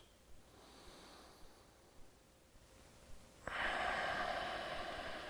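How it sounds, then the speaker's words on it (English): Deep breathing in and out through the nose during a hip and core yoga session: soft, faint breaths in the quiet, then a loud, sustained airy exhale that continues to the end. "taking deep breaths in and out of your nose here"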